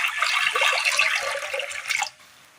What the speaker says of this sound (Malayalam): വേകുവാൻ ആവശ്യമായ വെള്ളം കൂടി ഒഴിച്ചു കൊടുത്ത്